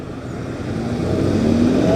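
A white classic Lamborghini Miura drives past at a car gathering, its engine a steady rising drone that grows louder and closer over two seconds with a climbing pitch as it approaches.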